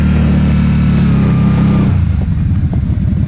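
A motorcycle engine drones loudly and close with a steady raised hum, then drops into a rougher, lower pulsing as the clutch slips, heard alone without talk.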